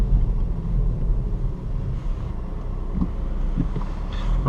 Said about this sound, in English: when you're standing still, you really hear the diesel noise